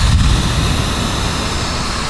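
A steady, loud rush of blowing air with a low rumble, continuous and close: a Dyson Supersonic hair dryer running at its lowest airflow setting.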